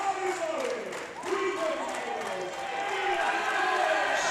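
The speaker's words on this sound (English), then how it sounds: "The crowd are going crazy." Crowd at a junior men's 93 kg world classic powerlifting championship roars and cheers continuously, loud and sustained, with a commentator's voice running over the noise.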